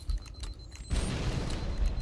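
Fuel rod cannon explosions in the Halo video game: a few boomy blasts early, then a sustained loud rumbling barrage of explosive bursts, with no talking.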